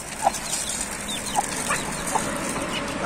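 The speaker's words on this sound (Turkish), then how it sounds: "bir tane tavuk kaldı" A village chicken clucks nearby in a few short, separate calls spaced across a quiet outdoor background.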